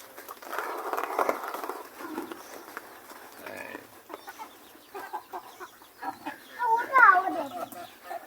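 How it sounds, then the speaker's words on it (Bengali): Chickens at a rural pond-side farm cluck and squawk in short irregular bursts from close by, with a few sharper calls toward the end; people talk intermittently in between. "এই যে আমাদের সব মুরগি আসছে আস্তে আস্তে"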